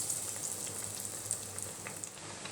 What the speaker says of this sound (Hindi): गरम कर लिया, फ्राई करके दिखाती हूँ